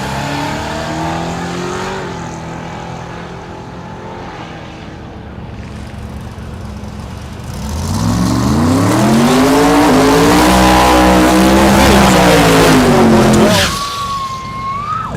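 A 1955 Chevy drag car thunders down the strip at Thunder Valley in Noble, Oklahoma. A low rumble swells into a loud, rising roar as it passes close, then cuts off sharply, leaving a fainter tone behind.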